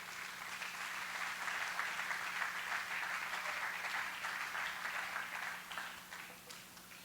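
A church congregation applauding together, a dense steady clatter of many hands clapping for several seconds before tapering off slightly at the end, with no talk over it.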